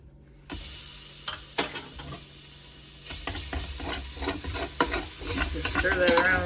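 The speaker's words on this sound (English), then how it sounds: "Just stir that around real quick" A spoon scrapes and stirs broth around a hot pan to lift browned bits left from searing a chuck roast, with a strong sizzle and hiss, repeated scraping strokes, close and alone.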